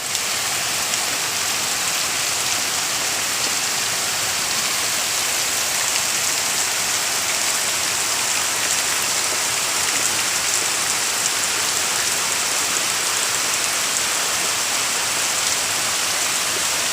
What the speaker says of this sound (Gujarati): એક કલાક તો પડ્યા ચાલુ છે હજી વરસાદ ધોધમાર